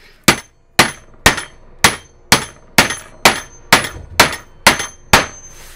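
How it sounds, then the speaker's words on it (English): A lump mallet drives a connector nut into wood for a homemade vertical printing press: eleven sharp, evenly spaced knocks, each ringing briefly, loud and close with nothing else heard. "but I decided to use a lump mallet."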